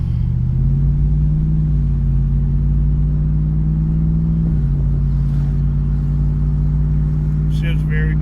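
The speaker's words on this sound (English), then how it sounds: "All right, taking off at the light." A 2005 Jeep Grand Cherokee 4x4 with the 4.7-liter engine pulls away from a traffic light, its loud, close engine drone holding a deep steady tone, dipping briefly as it shifts, then settling back into a constant rumble.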